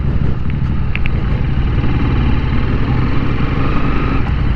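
Royal Enfield-style Interceptor 650cc motorcycle engine running steadily close by outdoors in fog, a dense continuous low rumble with even loudness and no talking.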